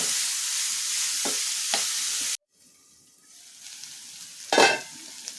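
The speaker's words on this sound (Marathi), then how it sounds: "आणि यातच आपण लगेच टाकणार आहोत शिमला मिर्च ही पण परतून घ्यायची आहे" Bell pepper sautéing and being stirred in a hot pan for a spicy vegetable curry, with a steady broad sizzle and a few scraping stirs, then a sudden cut to quieter frying with a louder stir near the end.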